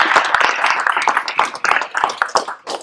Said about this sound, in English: So can we just get a little applause for Dawn?